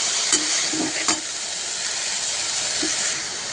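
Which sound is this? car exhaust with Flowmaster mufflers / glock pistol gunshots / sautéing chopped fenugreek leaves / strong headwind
sautéing chopped fenugreek leaves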